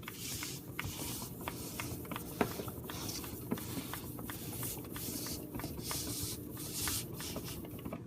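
A Wilton smoother scraping frosting along the side of a cake in repeated soft strokes, a steady hissy swishing with faint light taps, close and alone.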